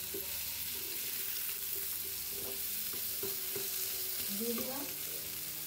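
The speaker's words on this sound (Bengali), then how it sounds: "এই যে ভাজা ভাজা আমার হয়ে গেছে, এবার দেব ধনে পাতার সব ডাঁটাগুলো" Coriander stems fry in a pan with a soft, constant sizzle and occasional light clinks from stirring. A voice speaks briefly near the end.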